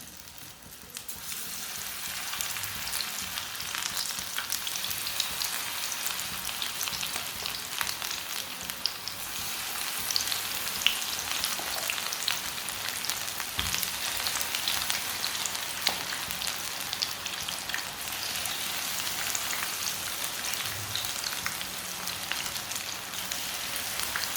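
Moong and potato pakoras frying in hot oil make a steady, dense crackling sizzle that carries on evenly throughout, close and fairly loud, with no talk.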